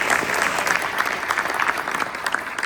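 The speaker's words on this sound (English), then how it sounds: "Let's give them a round of applause." An audience at a Republican candidate forum for Texas House District 41, held in a church, claps in a dense, steady round of applause filling the whole moment, fairly loud with no speech over it.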